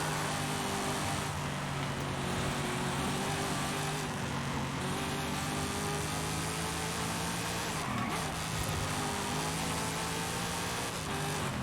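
A 2009 Chevy Corvette ZR1 in Forza Horizon 5, its engine droning steadily at high revs throughout, loud and continuous with a slight dip in pitch midway, no talk over it.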